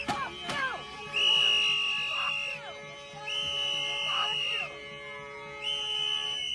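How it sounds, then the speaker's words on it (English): Sharp, shrill whistle blasts repeat in long bursts, loud and close, blown in a woman's face amid angry shouting voices and crowd noise. "So they're blowing the whistle in this lady's face."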